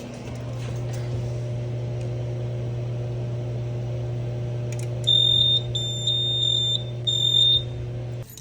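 Fire alarm panel in a school woodshop sounding its trouble signal with the battery disabled: a steady high electronic tone pulsing in short repeated bursts for about three seconds over a constant low hum, near and fairly loud, no talking.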